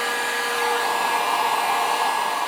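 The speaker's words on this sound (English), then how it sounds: "If you want one of these heat guns" A heat gun blows a steady, loud stream of hot air onto gun parts during a Froglube treatment of an STI Spartan 1911 pistol. The hiss is even and continuous and plays with no talking.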